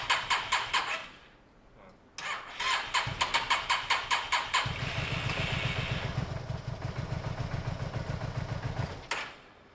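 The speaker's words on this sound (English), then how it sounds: "the good thing is the engine's running" A Yamaha TMAX scooter's engine, just after a carburetor clean, sputters and catches after a pause, then settles into a steady, rapid idle that runs on before cutting out near the end.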